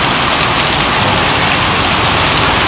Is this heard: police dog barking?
no